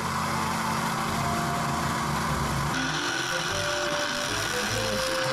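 A drill press bores a hole in an enclosure for a homemade distortion pedal, a loud steady mechanical whir with grinding and rattling that shifts in tone partway through, close and continuous with no talking.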